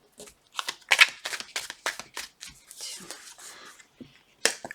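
Tarot cards are shuffled in a series of crisp, close riffling bursts, irregular in rhythm and separated by short pauses, with soft handling noise and quiet murmured speech between them.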